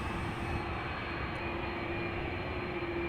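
A KLM Airbus A330-300 heavy airliner at Amsterdam, bound for Riyadh, gives off a steady broadband engine roar with a thin whine above it, holding constant at a moderate distance with no voices.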